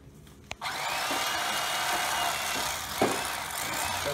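An electric knife whirs steadily as it fillets a small 14 to 16 inch walleye, starting with a click and buzzing close up for several seconds with a slight bump midway.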